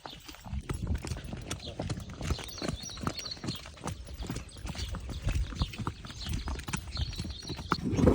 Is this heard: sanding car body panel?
no